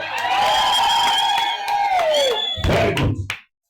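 At a church wedding, guests ululate in a long, high, warbling trill that slides downward, then break into a short burst of loud cheering and clatter before it cuts off.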